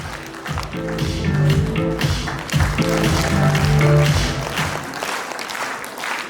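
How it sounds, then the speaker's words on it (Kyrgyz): An audience at a school-to-stage final applauds continuously as a singer walks on, the clapping steady throughout while loud stage music with sustained tones plays beneath it and fades toward the end. "Тоз алыңыздар кол чабуулар менен."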